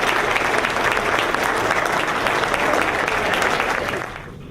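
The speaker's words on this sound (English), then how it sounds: "Can we give them one more round of applause?" A crowd at a United Way campaign celebration dinner gives sustained applause, full and even across the room, before it thins out near the end.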